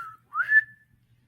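A person whistles in imitation of a small bird: a short flat note, a pause, then a rising slide that holds a high tone before stopping. It is clear and close against silence.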